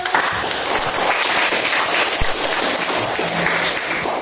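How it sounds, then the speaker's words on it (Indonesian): Classroom students clap for a group that has just presented its analysis, a fairly loud burst of mixed claps and noise filling the few seconds without a break. "Beri tepuk tangan dulu."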